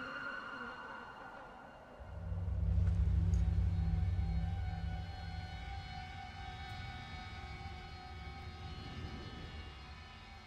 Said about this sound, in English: They got like an air raid siren and then everybody just leaves.